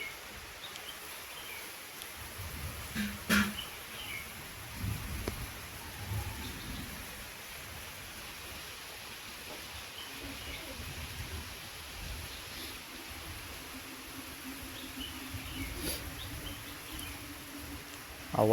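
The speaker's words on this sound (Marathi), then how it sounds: "आवाज सुद्धा येतो, गडगडतोय सुद्धा." Morning rain falls steadily in a forest, a soft constant patter with low thunder rumbling faintly in the distance, no voices.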